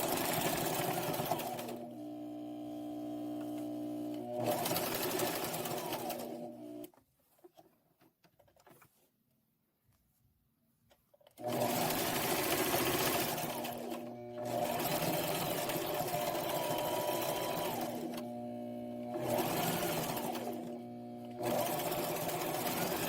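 A sewing machine stitches wedding gown fabric in several steady, close runs of rapid mechanical chatter, with a clear pause near the middle before it starts again.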